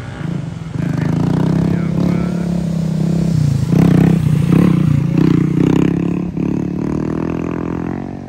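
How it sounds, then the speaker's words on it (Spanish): A motorcycle is ridden into the sea at a beach, its engine running loud and steady with rising revs and clattering surges, close by, with no talk over it. "metió la moto al agua"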